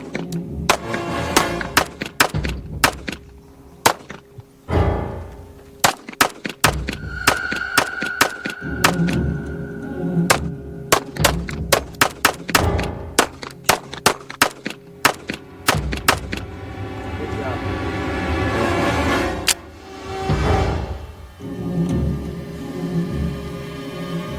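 Sharp gunshots fired at targets by military recruits, sounding as sudden loud cracks, some single and some in quick bursts, scattered irregularly across a noisy outdoor background with gaps between volleys.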